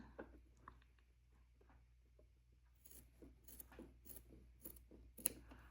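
Scissors snip through folded quilting fabric for a pot holder, a series of quiet, close cuts growing more frequent in the second half, with no talking.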